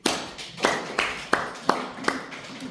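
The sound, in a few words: audience applause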